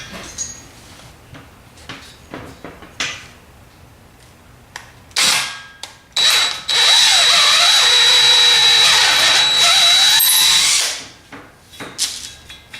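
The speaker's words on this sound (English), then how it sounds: "we're drilling with the 5/16 drill for the tap." A power drill runs a 5/16 bit into metal to prepare a 3/8 thread tap, building a coffee table from an Aston Martin DB9 V12 engine; after some workshop clatter, the loud drill whine holds steady for about four seconds, then stops.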